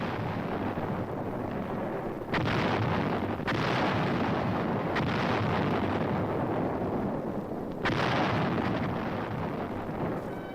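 155 mm artillery guns firing during the Korean War give a dense, continuous roar of blasts with a few stronger booming bursts standing out, loud and harsh like an old film soundtrack, with no speech.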